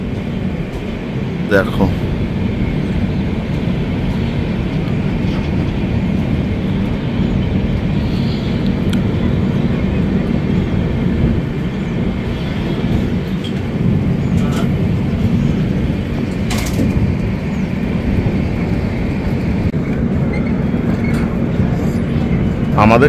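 Steady rumble and clatter heard from inside a 3AC coach of the Kolkata–Jaynagar weekly express as the train runs along a single line, a continuous, even drone with a person speaking briefly over it.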